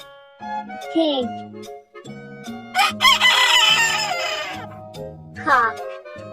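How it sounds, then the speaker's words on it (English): A rooster crows once in a long, loud cock-a-doodle-doo, set among chiming musical tones and brief child-like voice snippets, a farm animal sound for learning animal names. "Cock."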